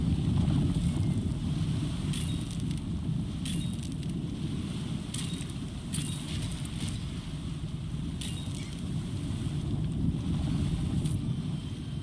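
A small speedboat built in Besiege races across choppy water, giving a steady low rumbling engine drone with wind noise and faint splashes throughout, no voices.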